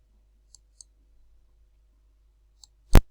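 Computer mouse clicking: three faint, sparse clicks spread across a quiet background, then one louder, sharper click near the end, close up and with no voices.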